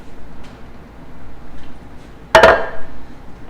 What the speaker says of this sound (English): Let me move this out of the way, stick my crock pot over here.